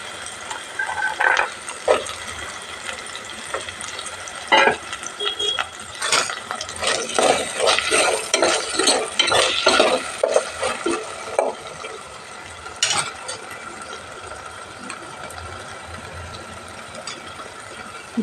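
Green peas stirring and frying in a pan for biryani, with scraping and clinking of a spoon against metal over a steady sizzle, loudest in the middle and fading to a quiet fry.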